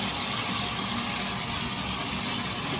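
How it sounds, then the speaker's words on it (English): Shower water runs in a steady, close, full-bodied hiss in a home bathroom, spraying continuously with no pauses and no voices over it. "I'm about to get in the shower"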